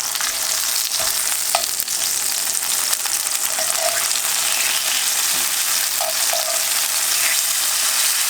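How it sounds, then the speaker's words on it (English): A tomato and egg omelette fries in a pan, giving a steady loud sizzle with constant crackling splatter from the tomato juice and a few brief clinks, with no talking. "there's a lot of juice in the tomatoes, so it's going to make a lot of splatter"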